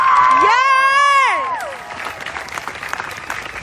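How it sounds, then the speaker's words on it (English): A crowd at a protest event claps and cheers loudly, with a shrill whistle or whoop rising over it early, then the applause fades to a softer, steady patter. "So let's give them a round of applause."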